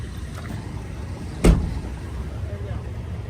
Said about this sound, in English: Would you be able to close my left rear door?